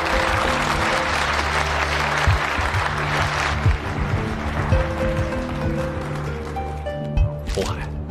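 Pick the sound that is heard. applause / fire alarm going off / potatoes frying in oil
applause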